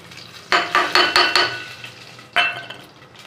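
Fennel, cinnamon and cloves tipped into ghee in a pot for mutton biryani, a series of sharp metallic clinks and scrapes in quick succession, then a pause and one more knock, with light sizzling; no talking.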